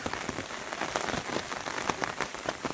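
Steady rain pours onto a waterlogged farm field during the first monsoon rains of Shravan, a dense, close hiss of drops with no talk.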